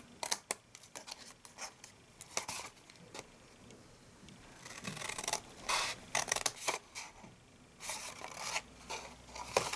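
Scissors snip through card while a gift box is cut and notched, giving many crisp, irregular cuts with rustling and scratching of paper between them, close and clear, with no voice.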